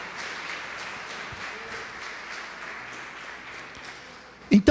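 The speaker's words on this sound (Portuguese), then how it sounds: "Pode aplaudir e glorificar o Senhor Jesus Cristo." A church congregation applauds in a steady, sustained wash of clapping that ends in a couple of loud, close bursts.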